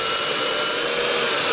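A drill fitted with a 1/4 inch bit bores a hole with a steady, loud, high whine that holds for a short burst.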